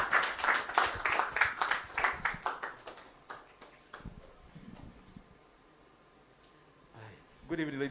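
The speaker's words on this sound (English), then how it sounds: "Ladies and gentlemen, a round of applause." An evening audience at the Asaase Radio sound clash bursts into clapping and cheers that fade away after a few seconds, leaving quiet room noise before a voice starts speaking.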